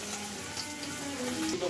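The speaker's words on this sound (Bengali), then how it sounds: "তো মাছগুলো এখন ভাজা করছি, তারপরে ঝোল করে নেব।" Fish sizzling as it fries in a pan, a steady crackling hiss that holds close and even for the whole short stretch, with faint kitchen clatter and no talk.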